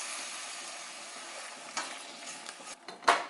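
Butter and sour cream cook quietly in a pan over low heat with a faint steady sizzle, punctuated by a few soft clinks and scrapes of a utensil toward the end.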